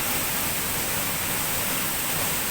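Steady broadband roar of Mandayao Waterfalls in La Castellana, Negros Oriental, water pouring continuously and loudly up close with no breaks or voices.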